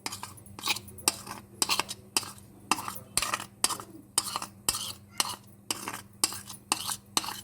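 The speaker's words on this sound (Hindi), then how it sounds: "तो इसे अच्छी तरह से अब आलूओं के अंदर मिक्स करेंगे।" Rhythmic scraping and clinking of a spoon stirring garlic paste through cooled boiled potatoes in a bowl, about a dozen steady strokes over a low background hum, no talking.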